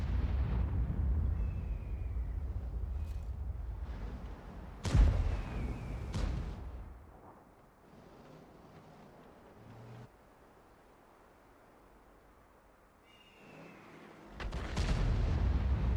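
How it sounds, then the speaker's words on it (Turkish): Heavy booming cannon shots from tanks in World of Tanks, including a BC 155-58 artillery piece, with a few loud blasts spaced seconds apart amid rumbling engine and battle ambience, no talking. "Bir atış daha bıraktı."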